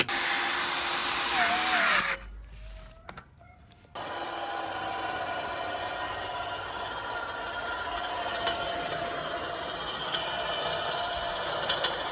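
A power drill or electric screwdriver building a fence in spring, with a close, loud, steady whine that drops away for about two seconds and then resumes and runs on continuously.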